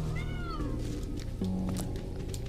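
A cat in the video game Mini Ninjas gives a few close, clear meows with rising and falling pitch over steady game background sound.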